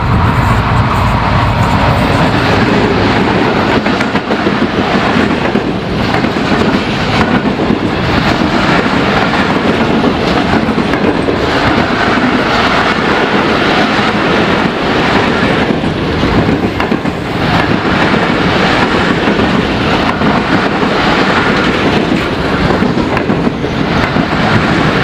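The Millat Express, a third-class Pakistani passenger train, rolls past close by in a loud, steady roar of wheels and carriages with faint clickety-clack and wind buffeting the microphone, lasting about twenty-five seconds without talking.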